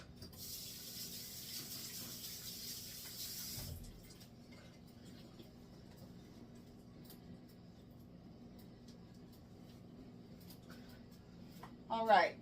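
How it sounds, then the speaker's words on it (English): Water runs from a kitchen tap for a few seconds during hand washing, a steady close gush that stops, followed by faint room noise and a brief clatter near the end. "I'll wash my hands"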